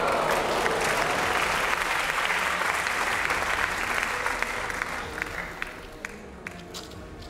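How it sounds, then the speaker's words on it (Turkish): A studio audience at a Turkish talent show gives a big, sustained round of applause, dense and loud at first and thinning out toward the end. "Sergen Bey'e kocaman bir alkış alabilir miyiz?"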